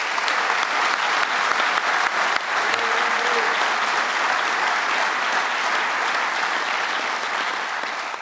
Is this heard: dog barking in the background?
no